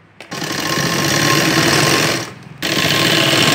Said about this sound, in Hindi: फिर इस पर सिलाई लगा लेनी है हमें